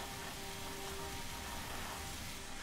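Steady rain falls in the Tomb Raider video game as an even, hissing wash of close rainfall with no breaks and no talking.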